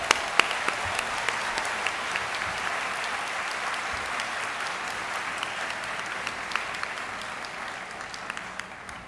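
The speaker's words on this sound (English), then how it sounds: "very warm round of applause." Steady, even applause from a convocation audience for the Brian Sand Quintet at a spring health sciences ceremony, sustained and fairly distant throughout with no talking.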